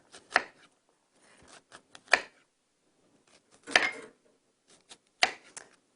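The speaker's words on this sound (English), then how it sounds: "if you cut it in half and then carefully kind of cut it sideways like this, all the way through" An onion sliced with a knife on a cutting board, four or five separate crisp cuts with pauses between them, close and clear with no voices.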